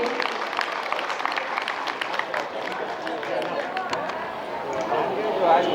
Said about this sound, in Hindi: जोरदार तालियां पापा के लिए,